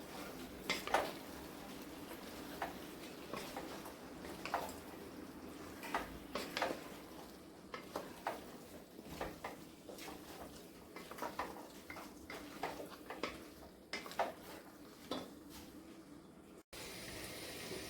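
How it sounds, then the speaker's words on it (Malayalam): Chicken roast is stirred and mixed in a pan, with repeated light scrapes and clinks of a spoon against the metal over a faint sizzle, steady and close throughout. "ഇനി നല്ലപോലെ ഒന്ന് ഇളക്കി യോജിപ്പിച്ചു കൊടുക്കണം"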